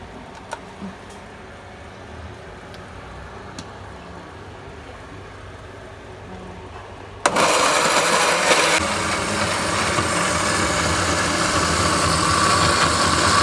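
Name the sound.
blender running, blending spices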